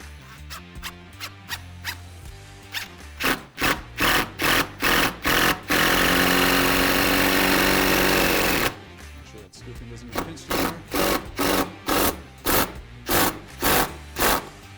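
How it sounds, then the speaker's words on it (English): A power drill drives screws through an Armor Concepts jamb shield into a wooden door jamb, firing in rapid repeated bursts, with a long sustained run of grinding in the middle and then more short pulses. "you're sinking more screw into the strength of the actual door, which is the door jamb"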